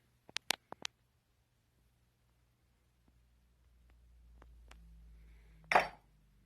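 A few old glass ink bottles clink sharply in quick succession, followed by quiet handling, a faint rumble and one louder clatter of glass near the end.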